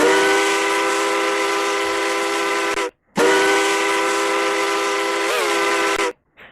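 A steam whistle on a model train of the Strasburg Railroad sounds two long, steady, clear blasts separated by a short pause, loud and alone with no talk.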